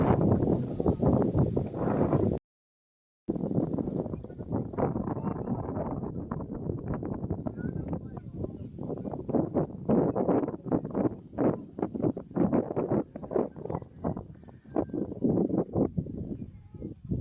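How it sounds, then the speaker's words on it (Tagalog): Strong gusts buffet a microphone at the Kabayunan View Deck, a loud rumbling roar that surges and drops in uneven bursts, with a brief dropout early on. "Lakas ng hangin."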